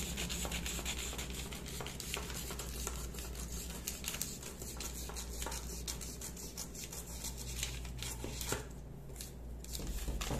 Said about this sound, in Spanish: cogemos una tijerita, cortamos por aquí